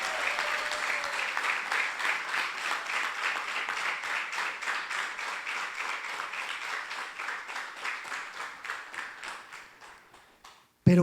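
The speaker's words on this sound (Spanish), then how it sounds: "Muy lindo, rico, chévere, aplaudamos" A church congregation applauds together in a steady, sustained wave of clapping that gradually fades toward the end, with no talking over it.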